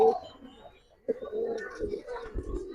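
Pigeon cooing from a large male Giribaz pigeon, soft low coos repeating close by with someone talking over them.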